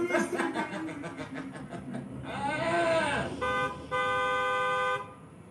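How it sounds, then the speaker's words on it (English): Car horn honks in an audio drama scene: a stuttering run of short toots, then a wavering held blast, followed by a steady sustained honk, loud and up close. "Jam follows the sound of the honk."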